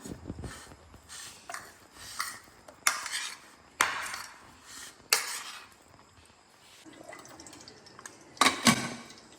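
Paneer rice being stirred with tomato sauce in a pan, a spoon scraping and clinking against the metal in irregular strokes, close up and fairly quiet, with no talking.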